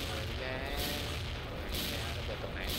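Gunfire in the XSHOT shooting video game rattles in dense, continuous bursts with booming blasts, loud and crowded, under a player's voice talking in Thai.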